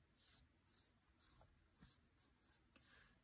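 A pencil draws a circle on paper, making faint, soft scratching strokes in short repeated bursts, close and quiet.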